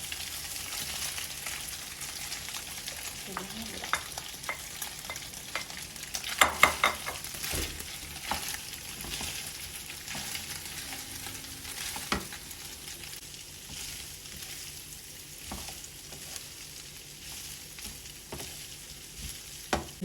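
Steady sizzling of onions frying in hot fat, a continuous crackling hiss with occasional stirring clatters, close and moderately loud, no talking.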